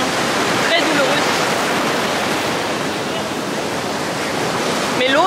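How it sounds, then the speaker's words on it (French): Huge ocean waves crash onto the shore in a continuous, loud roar of surf heard close by, with brief traces of a voice at the start and end. "étant donné que les vagues sont énormes, même ici, juste à côté de l'eau, c'est déjà tout plein"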